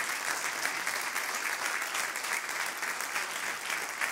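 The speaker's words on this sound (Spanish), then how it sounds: "Dele ese aplauso al Señor" Church congregation applauding at a Wednesday worship meeting, a steady, dense wash of many hands clapping throughout with no voices.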